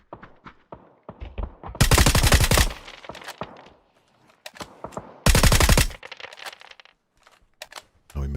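Automatic gunfire from the hip in the PUBG video game, two long loud sustained bursts separated by scattered single shots and clicks, close and dominant.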